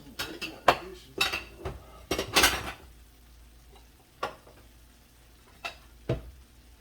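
Dishes, pots and cutlery clatter and clink sharply in bursts while beef and broccoli are plated, a busy cluster of knocks early on followed by a few isolated clanks, close and loud with no talking.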